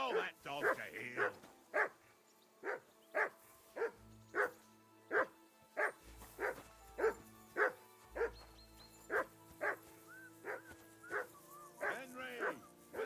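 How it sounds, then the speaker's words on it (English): A dog in Kingdom Come: Deliverance 2 barks over and over in a steady, evenly spaced rhythm, each bark sharp and fairly close, with brief voices near the start and end. "Call off that damn dog before he wolfs down the last of our mates."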